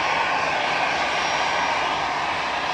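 Aircraft engines roar loud and steady at Manchester Airport in the evening, a continuous close, broadband drone with no speech.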